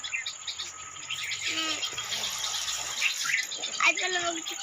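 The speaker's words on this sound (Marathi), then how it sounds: "पक्ष्यांचा किलबिलट चालू झाला आता दिवस मावळायचा" Small birds chirp and twitter at dusk in a village chilli field over a steady background of insects, with faint chatter and a low engine hum underneath.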